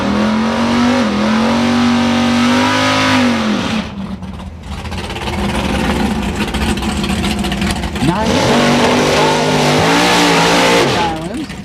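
A 1982 Chevy S10 and a 1971 Chevy Nova drag race, engines revving hard with rising and falling pitch sweeps, a brief dip midway, then another loud surge, with commentary over the roar.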